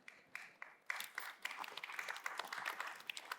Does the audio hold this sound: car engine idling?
no